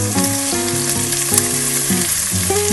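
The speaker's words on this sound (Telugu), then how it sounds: "వీటిని ఒక్కొక్కటిగా వేద్దాం పచ్చిమిర్చి క్యారెట్ ముక్కలు క్యాప్సికమ్" Green chillies, carrot and capsicum fry loudly in hot oil for egg fried rice, a constant sizzle under a steady bed of tonal background music.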